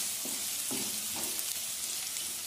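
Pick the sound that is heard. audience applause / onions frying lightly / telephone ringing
onions frying lightly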